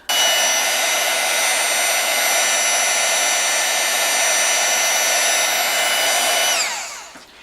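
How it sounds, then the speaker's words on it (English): An embossing heat gun blows on embossing powder along a card edge for a holiday card, a loud, close, steady whirring hiss that holds for several seconds and then winds down as it switches off. "now I'm going to take my embossing gun and I'm going to heat that edge"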